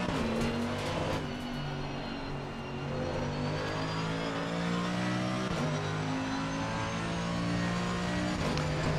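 A race car engine revs steadily in the video game Assetto Corsa Competizione, a loud continuous drone whose pitch climbs and then drops with two clear shifts.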